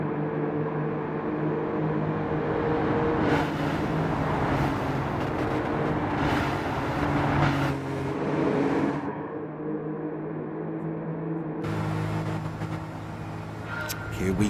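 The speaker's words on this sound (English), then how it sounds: "Cars on the final parade to the start-finish line." Race cars in Gran Turismo 7 roll through a parade lap at Michelin Raceway Road Atlanta, their engines droning steadily at moderate volume with swells as the pack moves, while a commentator talks over the engines.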